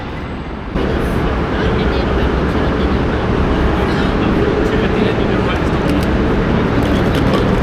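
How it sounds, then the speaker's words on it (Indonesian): Busy ambience inside Southern Cross train station in Melbourne, a steady loud wash of crowd murmur, rumbling trains and hall noise that jumps up after the first second and holds evenly throughout. "kita udah sampai di stasiun Southern Cross"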